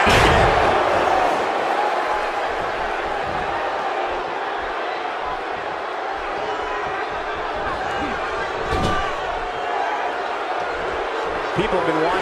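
Loud, steady crowd roar from the arena of a fighting video game, a team match between Team Lads and Team Gents, filling the whole stretch with a few thuds and slams under a commentator's voice.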